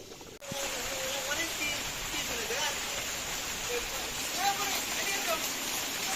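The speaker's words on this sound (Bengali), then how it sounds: "এই বৃষ্টির জন্য অনেক অপেক্ষা করতেছিলাম" Steady rain pours down outside a home kitchen during a Bangladeshi cooking session for bhuna khichuri, a dense continuous hiss filling the background with faint voices beneath it.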